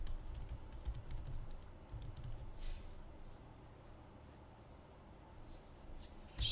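Light clicking of a computer keyboard as a web link is typed, a quick run of soft nearby keystrokes in a quiet room, with a few more taps near the end.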